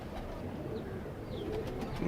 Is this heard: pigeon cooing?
yes